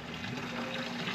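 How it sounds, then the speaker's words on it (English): Water rushes steadily from a hose, filling up a container on a farm where bulls are being moved; a continuous, even gushing hiss throughout with no voices. "Get them some water filled up here."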